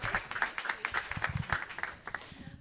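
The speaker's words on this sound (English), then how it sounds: "Let's give her a huge round of applause for organizing this and shepherding these stories." Audience at a high school story slam gives quiet applause, a small crowd clapping in a quick, uneven patter that thins out near the end.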